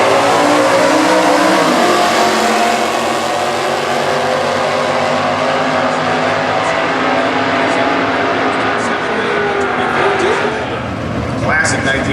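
A 1967 Camaro in K-Stock trim with a 283 V8 and four-speed gearbox drag races, its engine blaring loudly with shifting pitch sweeps as it pulls hard away, the roar continuing under a track announcer.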